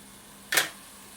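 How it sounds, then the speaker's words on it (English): A Pentax KM 35mm film camera's shutter fires after its self-timer runs out, a single sharp mechanical click with a brief whirring tail, alone and close. "it will release the shutter,"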